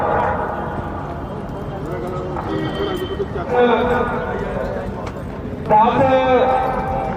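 Nukra horses at a horse show in Jagraon give off hoof clip-clops and a whinny amid a crowd, with loud announcer-style talk running over the scene throughout.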